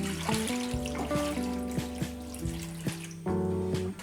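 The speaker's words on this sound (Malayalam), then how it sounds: "പാത്രത്തിന് വെള്ളം ഒഴിക്കാം" Water is poured into a metal cooking pot while making a pumpkin and yam curry, with ringing tonal resonances that shift as the pot fills and a few clinks, close and fairly loud.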